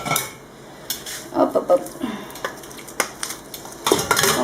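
Cooked tagliatelle is tossed with a utensil in a saucepan with turkey and mushrooms in white sauce, bringing clinks, scrapes and soft wet stirring sounds in irregular bursts, with a brief spoken interjection.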